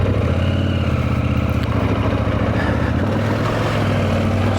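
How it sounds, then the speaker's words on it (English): A motorcycle engine runs steadily at idle, a loud, continuous low rumble close by with a slight shift in tone partway through. "this bike is absolutely my favorite motorcycle that I've ever owned"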